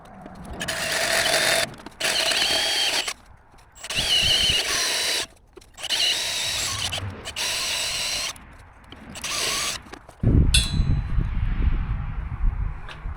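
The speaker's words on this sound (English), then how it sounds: "I'm not positive that my trusty hole saw's got 3/4 of an inch of hard steel in her" A hole saw cuts slowly through thick hard steel in a series of loud grinding bursts of about a second each, separated by short pauses, and a heavier, rougher rumble follows near the end.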